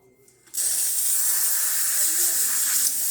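A Rocket Appartamento espresso machine's steam wand bursts on with a loud, steady hiss after a brief quiet moment and keeps blasting at full strength without a break.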